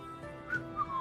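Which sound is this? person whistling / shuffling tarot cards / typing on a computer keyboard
person whistling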